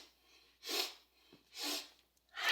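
Breathing exercise in a basic yoga session: two distinct sharp nasal sniff inhales, close and fairly loud, separated by quiet pauses, with another sniff starting at the end.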